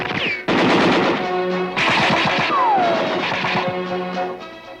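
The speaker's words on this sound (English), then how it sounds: "A target simulating enemy personnel calls for machine gun fire." Machine gun fire on an army training range, rapid bursts of loud shots that run continuously across the stretch, with other range noise mixed in.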